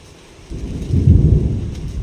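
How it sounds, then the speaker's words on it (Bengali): Rain begins with a deep rumble of thunder, a low roar swelling in after a quiet start and holding steady, loud and close with no voices. "এই বাবা, বৃষ্টি এসে গেল।"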